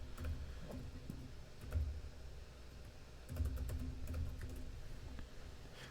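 Quiet typing on a computer keyboard with scattered key clicks and small bursts of faster tapping, faint and close, with no talking.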